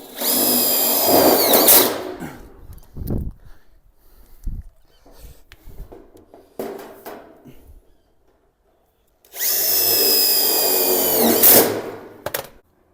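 A power drill drives screws into a Colorbond steel gate sheet in two loud bursts, each a whining spin-up about two seconds long. Quieter tapping and handling noises fill the gap between them.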